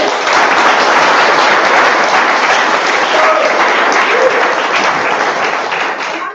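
A large meeting audience applauds in a full, dense wall of clapping that stays loud and even throughout before tapering off at the very end, with no clear voices over it.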